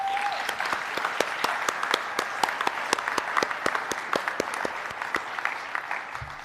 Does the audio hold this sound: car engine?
no